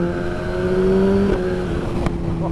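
A Suzuki GSX-R motorcycle engine fitted with titanium bolts and a quick shifter revs steadily at close range, holding a sustained drone with a brief blip near the end.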